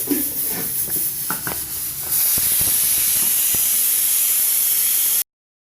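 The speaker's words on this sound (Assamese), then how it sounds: "মোৰ চিটি মাৰিব এতিয়া কুকাৰত।" A pressure cooker on the stove while veg pulao cooks sends out a steady, loud hiss of escaping steam, starting after a brief lull and holding unbroken for about three seconds before stopping abruptly.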